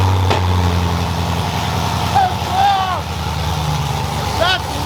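A freshly rebuilt car engine fires up for its first start and runs loud and rough at close range, a steady rumbling drone with a few squeals on top and voices talking over it.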